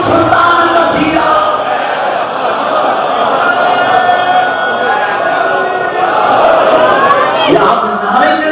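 A large crowd at a Muharram majlis in Lahore shouts a religious slogan in unison, a loud, sustained mass of voices filling the space for several seconds and swelling again near the end.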